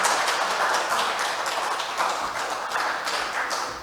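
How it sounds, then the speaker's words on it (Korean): Steady applause from a crowd at an architects' association election debate, dense clapping sustained throughout at a fairly loud, even level. "박수, 큰 박수 부탁드립니다."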